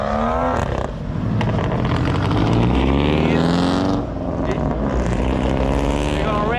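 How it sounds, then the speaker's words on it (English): A car engine revving loudly at a car show, with a sustained roar that rises and falls over several seconds and a nearby voice speaking over it. "They're gonna rev it, rev it, rev it."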